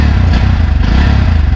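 A new 2024 Bajaj Pulsar NS 160 motorcycle engine runs steadily, a loud, close, throbbing idle with a dense rapid pulse and a bass-heavy exhaust note.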